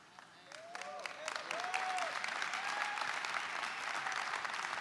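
A crowd at a church sermon breaks into applause that swells and holds steady, loud and sustained, with a few whistles or cheers rising through the clapping.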